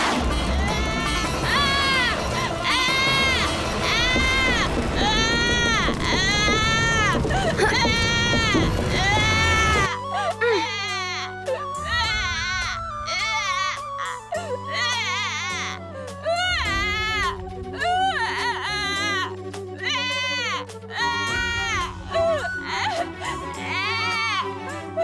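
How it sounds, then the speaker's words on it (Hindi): An infant cries in loud, repeated wailing bursts for about ten seconds, then continues more intermittently over a dramatic musical score in a mythological drama scene. "हाँ, शिशु के रोने की ध्वनि।"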